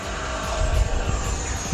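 An FMS F-16 70mm electric ducted-fan RC jet flies through a tight minimum-radius turn, a sustained whooshing fan roar with a few low buffeting gusts, heard alone.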